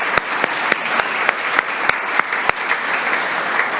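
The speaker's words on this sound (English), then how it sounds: "Let's give them all a round of applause." Audience applause at a school district board meeting, a steady wash of clapping with several distinct sharp, close claps standing out at irregular intervals.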